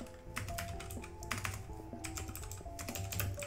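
Rapid keystrokes on a computer keyboard during an online multiplayer zombie game, quiet clustered taps over a faint background of game music tones.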